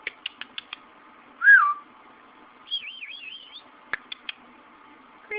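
A pet bird sits close by, giving short sharp chirps, a rising whistle and a warbling trilled whistle, with brief pauses of near silence between bursts.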